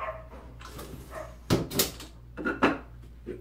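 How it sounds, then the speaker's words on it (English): A neighbor's dog barks outdoors, a few muffled yaps and whimpers heard through a window at moderate distance, with louder bursts partway through and near the end. "Don't need to hear the neighbor's dog more."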